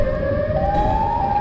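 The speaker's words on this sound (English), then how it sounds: "Is the siren sound?" A rising, steady siren wail from the Siren Head creature in the video game GTA 5, loud and continuous over a low rumbling background, with no talk.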